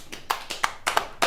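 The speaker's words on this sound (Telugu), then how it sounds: "క్లాప్స్ కొట్టు" Hands clapping during a festive party game, about five quick sharp claps in an irregular burst, close and alone.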